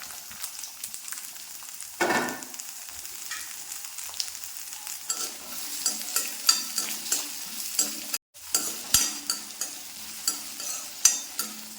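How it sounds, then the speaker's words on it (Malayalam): Small onions (shallots) fry in a pan for a tomato chutney, with a loud burst of sizzling as they hit the oil, then repeated scraping stirs over a softer, continuous crackle. "ഇനി നമുക്കിതിലേക്ക് ചെറിയ ഉള്ളി ഇട്ട് കൊടുക്കാം"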